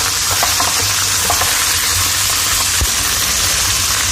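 Corn dropped into vegetable fried rice frying in a pan, a loud continuous sizzle with scraping stir noises and a dull knock partway through.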